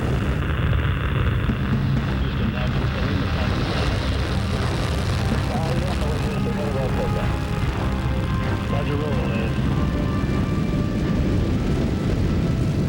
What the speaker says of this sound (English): Ignition and liftoff of the Space Shuttle Atlantis.